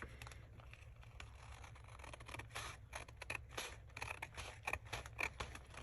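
Scissors snip repeatedly through paper, close up, with small crisp cuts growing louder toward the end over a low steady hum.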